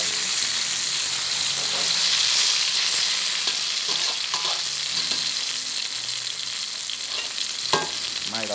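Pork and golden garlic fry in a hot wok with a steady, loud sizzle, broken by occasional scrapes and clinks of a stirring utensil, with no one speaking.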